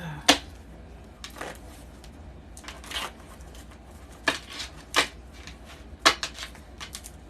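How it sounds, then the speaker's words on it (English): Crisp, brief riffles and snaps of tarot cards being shuffled, coming in separate bursts about a second apart, close and fairly quiet. "I'm going to shuffle all my cards real fast."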